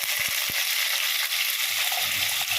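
Chopped onions and garlic fry in a pan of hot oil for a South Indian garlic curry, a steady close sizzle with a few soft stirring knocks.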